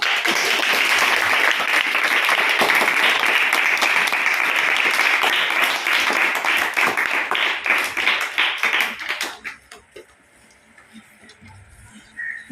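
Children and teachers break into loud, sustained applause at a village school science-experiment session, dense clapping running for about nine seconds before thinning into scattered claps and fading to quiet.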